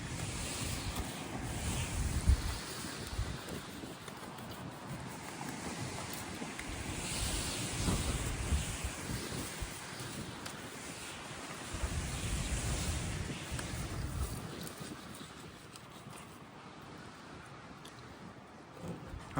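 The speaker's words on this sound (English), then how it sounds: "It is super windy." Strong, gusty wind roars and buffets the microphone outdoors while a flounder is filleted, with a continuous rushing noise that swells and eases over about twenty seconds.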